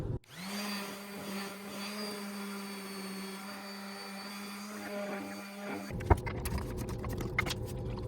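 A wooden nightstand tabletop is sanded with 240-grit sandpaper: a steady motor whine with a gritty hum runs for several seconds, then breaks into rougher scratchy friction and clatter.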